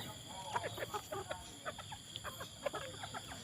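Several bantam chickens cluck in quick, irregular bursts close by while being fed, a busy scattered chorus over a quiet background.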